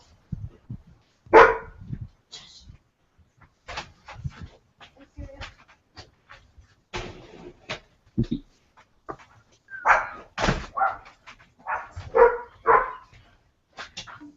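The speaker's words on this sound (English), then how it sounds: "I had shut the door so the dog couldn't bark, and then I left the window open" A dog gives several separate barks and yelps at uneven intervals, some loud and near and others softer, with panting and short quiet gaps between bursts.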